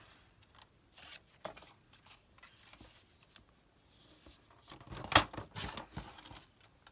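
A paper envelope is trimmed with scissors in a quiet room, giving short, close snips and crisp paper rustles in irregular bursts, with one sharper cut near the end.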